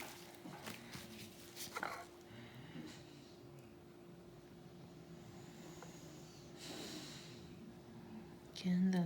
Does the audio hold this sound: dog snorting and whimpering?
yes